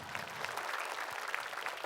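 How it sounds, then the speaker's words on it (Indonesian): Applause from the audience of a televised Islamic sermon, a steady dense wash of many hands clapping at moderate level, with no voices over it. "Tepuk tangan Bu untuk Nash."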